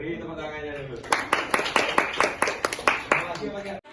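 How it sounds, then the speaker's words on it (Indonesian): A small audience at an on-the-job training session breaks into brief applause, a burst of rhythmic, fairly close hand claps lasting under three seconds after a moment of quiet voice. "beri tepuk tangannya dulu"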